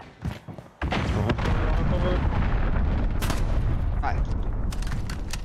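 A cruise missile strike in Modern Warfare lands as a sudden heavy explosion, followed by a long, loud, rumbling roar of blast and debris with scattered battlefield crackle; a voice talks over the din.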